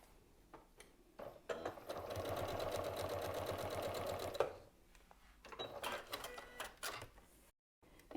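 A sewing machine stitches a seam on a scrappy mini log cabin quilt block, a steady close mechanical whir running about three seconds before stopping, followed by softer handling clicks and shorter bursts.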